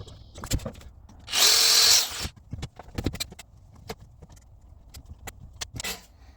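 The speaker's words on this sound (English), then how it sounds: "I'm going to drill these holes out a little bit more, so they are easier to drill into." A power drill bores out pre-drilled holes in a robot build, giving one loud sustained whine of under a second, surrounded by sharp clicks and handling knocks from the tools and parts.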